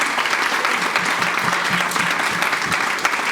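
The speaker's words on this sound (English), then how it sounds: "Let's give these girls a wonderful round of applause." An audience claps steadily for a group of girls at a Vyasapuja celebration for H.H. Indradyumna Swami, dense sustained applause filling the room at an even level throughout, with a few voices faintly mixed in.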